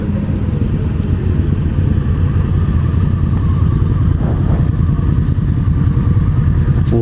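Victory Empulse electric motorcycle being ridden, a loud continuous rumble of motion and wind noise with faint whine and clatter, no speech.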